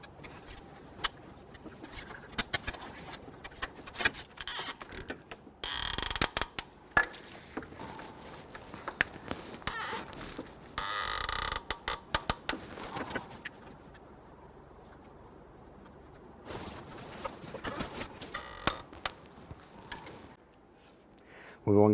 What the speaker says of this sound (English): Going to torque down our 4 AC compressor bolts to 18